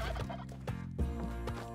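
A turkey gobbles in Spelunky 2 with rapid, warbling bursts repeated several times over a steady low game backdrop, moderately loud and close.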